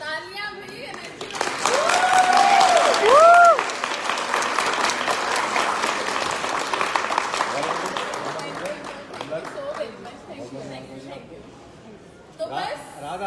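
A large audience breaks into sustained applause with loud cheering and whoops rising over the clapping early on, then the clapping slowly fades as a voice resumes.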